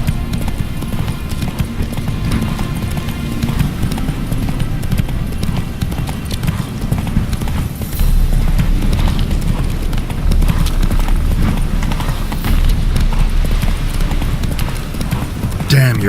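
Roach the horse gallops in The Witcher 3, a steady rapid clip-clop of hooves that runs the whole way under a constant low rumble of game sound.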